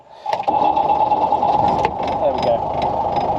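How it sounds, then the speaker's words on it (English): A licence-built Mercedes-Benz G Wagon engine cranks, catches and settles into a steady, buzzing idle up close, with a brief spoken word over it. "when that's pulled out, the engine turns over and catches"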